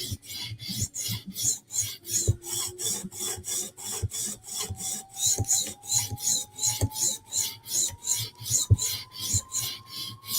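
A file rasping across the metal of a Spyderco knife in steady back-and-forth strokes, a close rhythmic scraping with regular pulses and a faint rising whine beneath.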